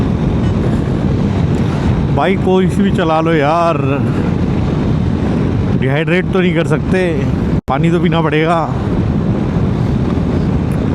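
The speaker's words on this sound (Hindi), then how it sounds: "हवा यहाँ इतनी ज़ोर से आ रही है" Strong wind buffets a microphone outdoors on a motorbike trip from Bengaluru to Pondicherry, roaring loud and constant throughout while someone talks over it in bursts.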